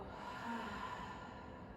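A slow, steady exhale during a yoga breathing exercise, soft airy breath sustained evenly for nearly two seconds, close and quiet with no talking over it.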